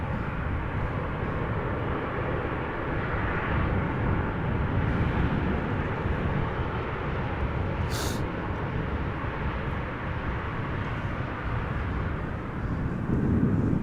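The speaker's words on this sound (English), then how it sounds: "Beautiful landing, gentle touchdown." Airliner arriving at Amsterdam Schiphol Airport, its engines a steady broadband roar that holds at constant loudness throughout the landing, swelling slightly near the end.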